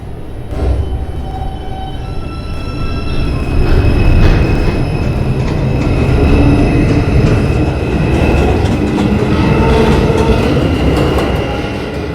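New York subway 2 train pulling out on the IRT line, loud rumbling wheels and rail clatter with sustained high metallic squeals building and lingering throughout, no voices.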